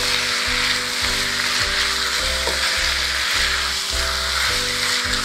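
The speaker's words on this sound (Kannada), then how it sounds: "ಈಗ ಹೈ ಫ್ಲೇಮಲ್ಲಿ ನೀವು ಇದನ್ನು ಹತ್ತತ್ರ 2 ನಿಮಿಷ ಫ್ರೈ ಮಾಡ್ಕೊಳ್ಳಿ ಚೆನ್ನಾಗಿ" Chicken curry masala with coriander leaves fries on high flame, giving a loud steady sizzle throughout, with low rhythmic thumps of stirring underneath.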